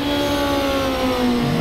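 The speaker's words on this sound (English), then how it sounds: "You heard the engine rev spike a little bit." Simulated race car engine in the rFactor 2 racing game, Formula 2 car at Silverstone, a loud continuous high-pitched whine with a slight rev spike near the end.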